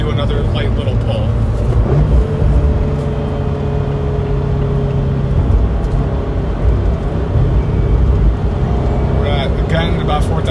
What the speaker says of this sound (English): I'm going to downshift into 3rd and do another light little pull.